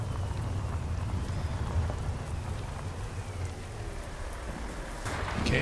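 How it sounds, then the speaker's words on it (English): Rain in the truck-driving game American Truck Simulator: steady, dense patter of rain with a low rumbling background, continuous and even throughout with no voices. "And look, it's raining."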